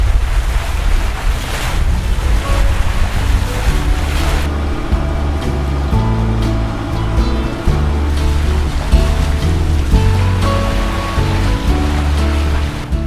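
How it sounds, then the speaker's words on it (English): Sailboat running downwind at sea, with steady loud wash of waves along the hull mixed with wind rush and low rumbling, continuous throughout with no talk. "We're sailing downwind!"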